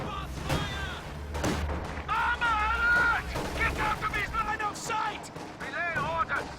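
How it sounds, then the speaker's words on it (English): An artillery barrage lands in the WWII strategy game Company of Heroes 2, with heavy thuds and scattered booming impacts rumbling underneath someone talking over most of the passage. "Oh, I heard another stupid barrage."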